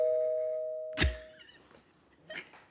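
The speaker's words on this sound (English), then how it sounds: "Did y'all hear the doorbell?" A doorbell rings at home during a livestream: a faint steady tone fades into a sharp chime strike, followed by a quieter second ring a moment later, with no talking.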